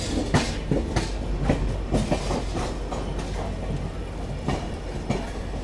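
Passenger train travelling from Hyderabad toward Varanasi near Manikpur Junction, steady rumbling rail noise with repeated clickety-clack wheel beats at irregular intervals, heard from inside the carriage, continuous and moderately loud with no talk.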